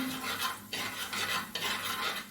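Dried red chillies, curry leaves and chilli powder roasting on a low flame in a pan for a fish curry, with soft scraping stirs and a faint sizzle in short, close strokes.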